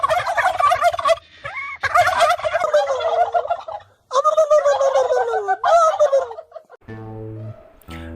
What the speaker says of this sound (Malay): Jom kita ternak ayam biru.